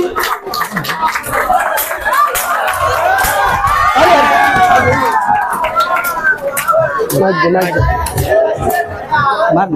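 A university crowd at a fresher's party comedy act roars with cheering, shouting and clapping in welcome; the loud, dense mass of voices swells and holds, with scattered yells standing out from the din.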